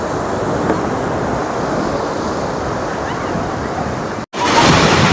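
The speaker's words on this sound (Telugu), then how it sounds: "అలలు వస్తూ" Sea waves roll and break on Kothapatnam beach, a continuous loud wash of surf mixed with wind buffeting the microphone, steady throughout with a brief cut near the end before the roar resumes.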